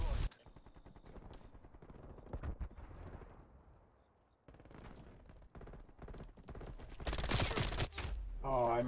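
Rapid bursts of gunfire in Call of Duty Cold War during a Hardpoint match, with sharp, loud shots in clusters and brief lulls between volleys.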